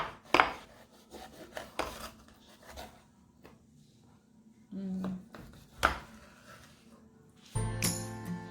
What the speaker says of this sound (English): I'll take my chef knife and I will cut the fish into half